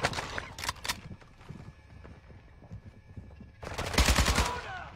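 Video game gunfire in two sharp bursts of rapid shots, one early and a longer, louder volley near the end, with quieter game noise between.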